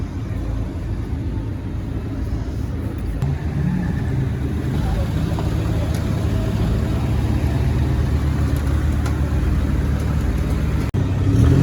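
Ford Focus Cup race cars sit on the grid at Oulton Park just before the start of race one, their engines giving a continuous low rumble with faint revving layered over a constant drone.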